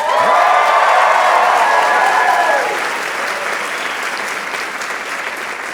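A convocation audience at Dalhousie University's Schulich School of Law spring ceremony bursts into loud, sustained applause with cheering voices on top, easing to a steadier clapping wash after a few seconds.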